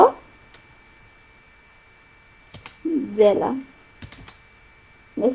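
A few short bursts of key clicks from a computer keyboard while typing in MS Word, mixed in with close speech.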